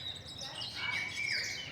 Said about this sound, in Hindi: मैं सोच रहा था चिड़िया की आवाज़ ये लोग भी सुन रहे हैं, हम लोग सुन रहे हैं।